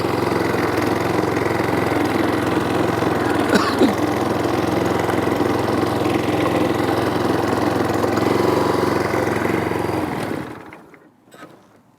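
A lawn scarifier's petrol engine runs steadily and loudly, close by, for about ten seconds, then winds down and cuts out near the end.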